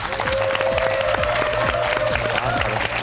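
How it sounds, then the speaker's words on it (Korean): Studio audience on a Korean TV quiz show applauds the day's winner, steady clapping mixed with a sustained musical tone and faint voices underneath. "오늘 우승자 강동재 씨에게 다시 한번 뜨거운 박수 부탁드립니다"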